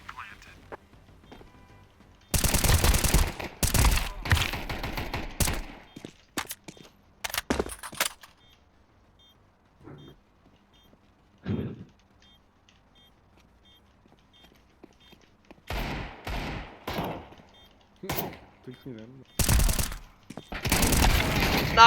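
Bursts of gunfire in a 5v5 first-person shooter match, rapid loud volleys in clusters separated by quiet gaps, with players talking over the action.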